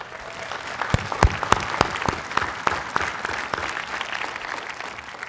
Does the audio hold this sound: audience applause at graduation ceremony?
yes